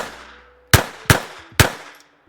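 A Taurus TX22 .22 pistol fires three sharp, loud shots at an even, quick pace about half a second apart, each with a short echoing tail, outdoors and close, with no talking.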